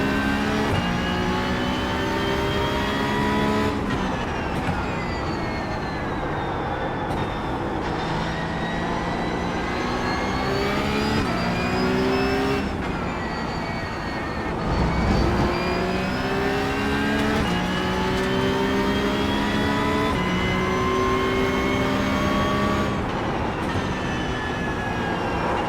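Porsche Cup 992.2 race car lapping Spa-Francorchamps in the iRacing sim, its engine screaming through repeated rising gear runs with sharp drops at each shift, loud and continuous with no talk.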